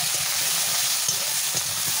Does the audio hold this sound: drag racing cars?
no